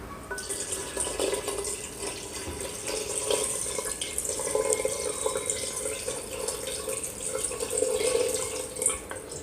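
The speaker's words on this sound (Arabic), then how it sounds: "بعد ما لحت لها الماء نتاعنا" Water pours steadily into a cooking pot while a Biskra-style mulukhiyah is being made, a continuous close splashing trickle that swells slightly near the end, with no talking.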